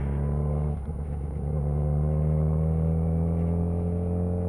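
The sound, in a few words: car engine accelerating through the gears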